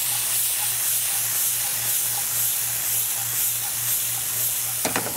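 Frozen peas sautéing in a pan, a loud continuous hissing sizzle with a brief clatter at the end.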